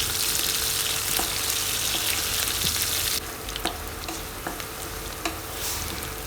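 Steady sizzling of onions sautéing in a hot pan for bottle gourd sambar, with a few soft clicks of stirring and a dip in the hiss partway through.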